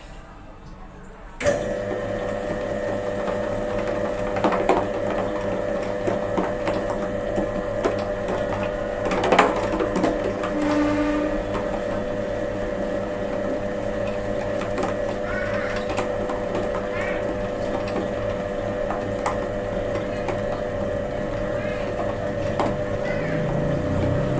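An electric stand mixer kneads bread dough, starting abruptly with a steady motor hum and mechanical whir that runs continuously and close by, with occasional small knocks and clatters over it.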